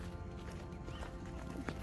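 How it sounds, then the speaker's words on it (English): Horse hooves clip-clop at a walking pace during a kids' horse riding session at El Questro, Western Australia, steady and close over a constant low rumble of outdoor noise. "Horse riding session"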